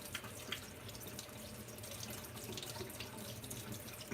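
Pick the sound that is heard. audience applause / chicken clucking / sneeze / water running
water running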